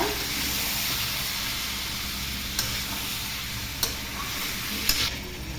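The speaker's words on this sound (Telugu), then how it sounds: "చూడండి, బాగా కలుపుకోవాలండి చికెన్ వేసాక అడుగంటకుండా." Chicken pieces frying in a pan while being stirred, a steady close hiss of sizzling oil with a few sharp scraping clicks of the spoon against the pan, no talking.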